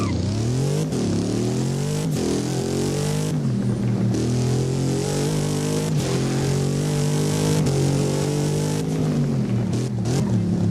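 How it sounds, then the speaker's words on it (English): A car accelerates in the video game Driving Empire, its engine revving up repeatedly through gears with rising pitch sweeps and brief dips at shifts, loud and continuous. "let's actually go ahead and hear how it sounds when we accelerate the car."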